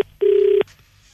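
Telephone tones on an incoming call, a short steady electronic beep followed by a longer sustained tone about half a second long, close and clear with no talking.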